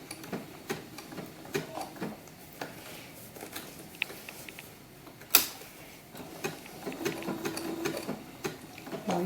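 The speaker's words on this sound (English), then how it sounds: "So I'm just going to sew around the paper just the way it is." A sewing machine stitches around paper in short uneven bursts, quiet ticking and whirring runs broken by pauses, with one sharper click midway, close and fairly faint.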